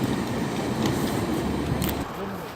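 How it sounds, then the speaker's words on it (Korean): A double-decker passenger train pulls out of a station in the United States, a steady loud rumble of rolling cars with faint rail clatter, easing off near the end. "2층 기차가 어, 잘 떠나고 있습니다"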